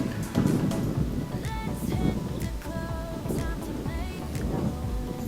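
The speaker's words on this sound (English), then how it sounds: "It's really windy today." Strong wind gusting outdoors among palm trees on a sunny, cool day, a steady loud rush and buffeting across the microphone with no one speaking.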